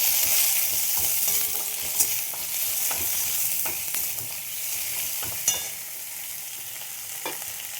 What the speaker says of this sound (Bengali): এবার দেখো এই টমেটোগুলো দিয়ে দিলাম।